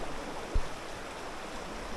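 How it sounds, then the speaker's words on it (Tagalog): Strong river current rushes steadily in a cold stream, a broad, continuous wash of water close by with one brief low thump near the start and no voices. "Lakas ng current dito."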